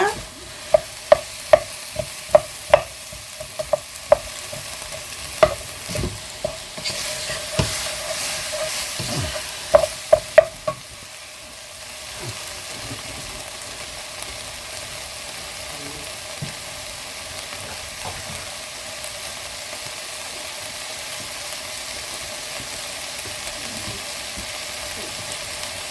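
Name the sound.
stirring beef and carrots in a pan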